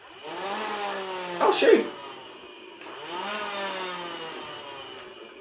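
Nerf Ultra AMP blaster, loaded with six AA batteries, spins its flywheel motor up in a rising electric whine that holds steadily, then winds up again a second time, with a brief exclamation over the first rev.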